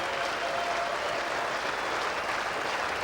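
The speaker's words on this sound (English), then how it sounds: "So there he is, acknowledging the applause" A Test cricket crowd in the stands applauds a bowler reaching his 400th wicket, with dense, continuous clapping at a constant level from start to finish and faint crowd murmur blended in.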